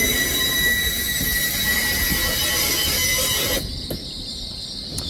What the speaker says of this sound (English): And departing is 800 103 bound for London King's Cross.